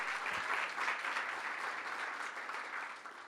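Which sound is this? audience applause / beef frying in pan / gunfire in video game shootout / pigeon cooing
audience applause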